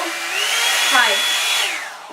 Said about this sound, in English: Like you get the brush and the blow dryer.